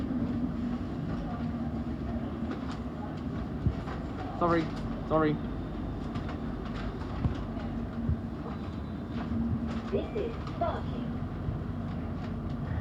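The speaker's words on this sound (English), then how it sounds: "This is the Hammersmith City Line train to Hammersmith." London Underground Hammersmith & City Line train running between Barking and Hammersmith, a steady low rumble and hum with occasional squeals, heard from inside the carriage beneath an onboard announcement and brief talk.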